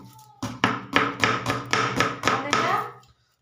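Rapid knife chopping of momo filling on a board in a village kitchen: about nine quick, even strikes close up, steady and loud, with nothing else heard.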